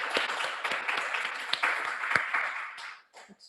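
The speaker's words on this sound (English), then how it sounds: "I think they deserve a round of applause from us" A small audience at a space habitat workshop claps for the host, scattered individual claps fairly close, loosely rhythmic, thinning out toward the end with a brief gap.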